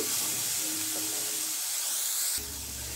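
Steamed green peas tipped into a hot kadai, giving a steady broadband hiss of steam and sizzle that shifts and settles partway through.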